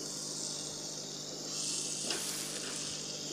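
Chopped ridge gourd and whole green chilies dropped into a hot pan with oil and fenugreek seeds, a steady bright sizzle that swells as the vegetables land, with faint stirring scrapes and no talk.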